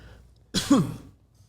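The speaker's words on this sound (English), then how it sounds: "This week got me coughing." One harsh cough, close and fairly loud, standing alone against near silence.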